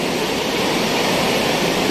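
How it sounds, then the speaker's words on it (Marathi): A Mumbai local train rushing past nearby, a loud, steady broadband roar of wheels and carriages filling the whole stretch without a break. "आणि हे ट्रेन बघताय आता"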